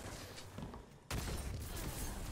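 A grenade explodes in an online team shooter game, a sudden heavy blast that cuts in after quieter background noise and leaves a loud sustained rumble.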